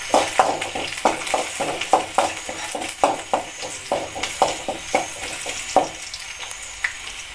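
Garlic, ginger and curry leaves fry in a pan, and a utensil scrapes and clatters against it in rapid, uneven strokes over a soft sizzle. The stirring pauses briefly, then comes again as a few more scattered scrapes, all close by.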